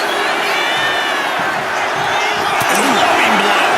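Arena crowd cheering and roaring steadily throughout a WWE 2K25 wrestling match, a loud continuous wash of crowd noise with a brief sharper shout near the end.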